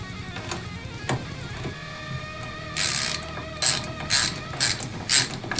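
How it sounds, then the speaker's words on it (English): A ratchet with a deep socket tightens an engine guard bolt on a Harley Dyna, giving a fast clicking pawl sound with several short bursts of ratcheting close up. "I'm gonna go with a deep socket."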